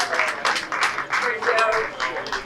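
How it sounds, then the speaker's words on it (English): Audience applause at a Chamber of Commerce business appreciation night, a dense steady round of clapping from a room full of people, loud and close, lasting throughout with a faint voice under it. "Another nice round of applause"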